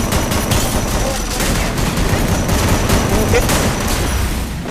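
Gunfire in the Free Fire video game, loud dense bursts of rapid shots continuing throughout, with a player talking over the shooting.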